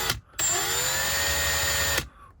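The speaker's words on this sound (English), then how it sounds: "Okay, into the drill. Just do the chuck up and then we just tighten the bolt down." Power drill spinning a wheel from a Tri-ang Hornby Class 3F 'Jinty' model locomotive, bolted into the chuck: a short click, then a steady, near whirring motor whine that holds level for about a second and a half and stops abruptly.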